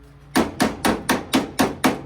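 Seven sharp metallic whacks in an even rhythm ring out as channel lock pliers are used as a hammer on a TE51 Corolla bumper, close and loud with no talking.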